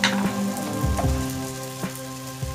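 Cauliflower and potatoes fry in a pan with salt and turmeric, giving a continuous close sizzle with a few scraping stirs and no voices.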